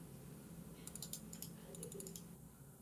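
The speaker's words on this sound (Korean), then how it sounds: "누구 키보드 소리가 이렇게 거슬리지?" Rapid clicky keystrokes on a computer keyboard during online gaming, coming in two quick bursts of taps that are faint, with a low background hum underneath.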